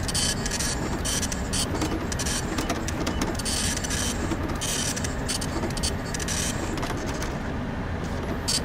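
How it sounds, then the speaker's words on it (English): A printer runs continuously in Five Nights at Freddy's 6 while printing posters, a steady mechanical whir and rattle with dense chattering bursts that carries on alone throughout. "Printing posters."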